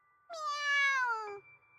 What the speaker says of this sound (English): She pets the kitten sadly.